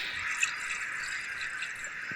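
Petrol being poured out in the horror game Granny 2, a steady, close liquid trickle running evenly for a couple of seconds with a faint drip near the start.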